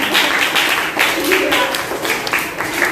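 Students in a classroom clap together in a dense, continuous patter that lasts throughout, with voices mixed in underneath.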